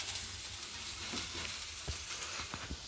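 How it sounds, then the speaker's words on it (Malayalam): Garlic, ginger and small shallots frying in coconut oil for a ginger pickle, a steady close sizzle with occasional crackles and stirring clinks running throughout. "എണ്ണയിൽ മൂക്കുന്നു."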